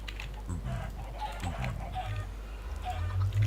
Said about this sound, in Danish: Jeg skyder bare kyllinger.